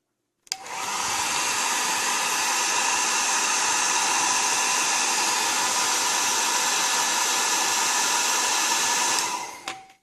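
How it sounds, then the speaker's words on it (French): A hair dryer blows steadily on a decal of a 1/24 Fujimi McLaren F1 GTR Long Tail model car, a loud continuous whooshing hiss with a whine that starts abruptly and cuts off just before the end. "peut-être un petit coup de sèche-cheveux."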